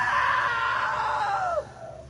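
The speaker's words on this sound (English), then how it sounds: "Now that was a great scream." A loud, sustained scream in the video game What Remains of Edith Finch, holding strong for about a second and a half before breaking into a falling wail and fading out.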